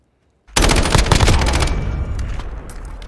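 Rapid automatic gunfire from Call of Duty Modern Warfare starts abruptly after a short silence, a loud burst of close shots that trails off into echoing reverberation.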